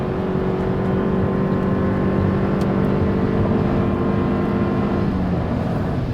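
Toyota Prius hybrid accelerating out of a corner under light throttle, a steady drone of engine and road noise with tonal hum rising slightly, loud and continuous throughout with no talk.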